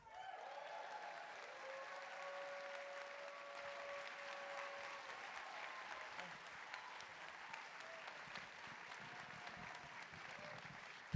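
An audience applauds to welcome Branford Marsalis onto a stage, a sustained, even wash of clapping from a crowd heard at a distance, with faint voices underneath.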